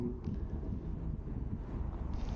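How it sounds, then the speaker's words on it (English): Steady wind roars across the microphone during a road bike ride, a loud, continuous low rumble with gusty swells and no speech. "Every time we put our nose here, we turn these corners, it really gets windy"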